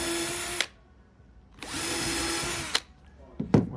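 A power drill bores into pine wood while a desk is being built. It gives two sustained whirring runs, each ending with a sharp click, followed by a brief final burst and clunk, all close and loud.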